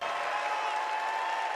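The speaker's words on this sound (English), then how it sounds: "Applause for a civil rights icon" A crowd applauds a civil rights icon in a brief, dense, steady wash of clapping that holds evenly from start to finish.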